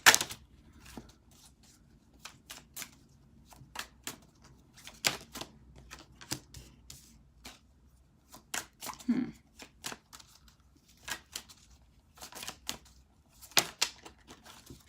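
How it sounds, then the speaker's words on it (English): Tarot cards spilling out of a deck during a reading, a brief scatter of light papery slaps and clicks heard close, with short bursts spread across the clip and a low room hum underneath. "All those cards just fell."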